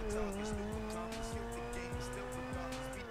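A light Turismo R supercar in GTA 5 brakes late and corners hard, its steady engine drone running throughout with repeated low thumps and a touch of tire squeal as it holds a tight line.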